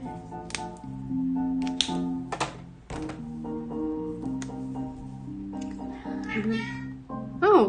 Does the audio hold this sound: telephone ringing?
no